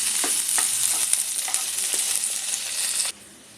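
Chopped onion and ginger-garlic paste frying in hot oil, a loud, close, steady sizzle with a few light stirring clinks, cutting off abruptly near the end.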